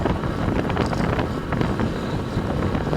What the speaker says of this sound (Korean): 바람이 굉장히 거세게 불고 있죠.